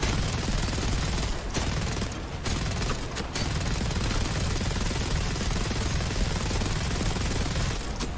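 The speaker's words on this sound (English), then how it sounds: "Let's see what the tail gunner sounds like." An aircraft tail gunner firing in War Thunder, a dense continuous stream of loud automatic gunfire with only brief dips, steady throughout.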